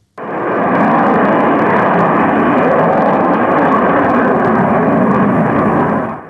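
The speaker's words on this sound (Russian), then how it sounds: "Перспективный авиационный комплекс фронтовой авиации, истребитель 5-го поколения Т-50." A Sukhoi T-50 fifth-generation fighter jet maneuvers overhead, its engine roar bursting in abruptly and holding as a loud, steady, broad thunder before it starts to fade.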